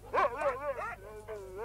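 Sled dogs in a frontier town yip and whine in a brief, close burst of excited, rising barks that fade into softer whimpering.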